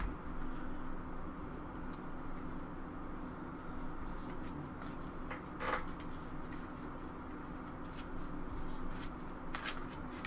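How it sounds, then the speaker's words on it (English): A deck of Magic: The Gathering cards is shuffled at a Modern format invitational finals match, giving soft riffling bursts over a steady hum of the room. "Dwayne shuffling up, Lyle getting ready."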